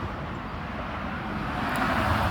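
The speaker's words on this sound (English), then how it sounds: "And the traffic noises are just going to be part of it." Steady road traffic rumbles past a porch, a broad continuous wash of tire and engine noise that swells slightly toward the end, with no talking.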